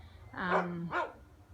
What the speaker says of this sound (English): you can hear my dog, can't you?